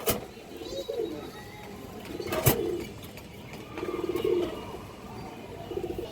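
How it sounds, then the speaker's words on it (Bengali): Big, huge-sized pigeons at a pigeon sale coo in soft, low repeated phrases at close range, with a few brief louder bursts between them and faint background noise. "বিগ সাইজ দেখেন হিউজ সাইজের কবুতর"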